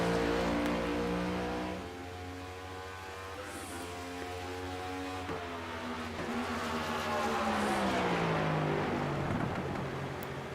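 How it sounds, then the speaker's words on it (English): Race cars at Nashville speedway, a Cruisin Classics Next Gen Series event, drop through the gears into a corner: loud, close engine drones whose pitch falls and rises again over steady motor roar, with no voices. "You hear them downshifting as they come in through the corners there"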